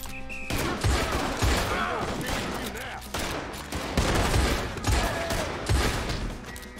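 Revolver gunfire in Red Dead Online comes as rapid, repeated sharp shots, roughly one per second, over busy background battle noise.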